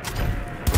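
Assault rifle fire in Cyberpunk 2077 aimed at the ground, a short sustained burst followed by a sharper, louder pair of shots, close and alone with no talk.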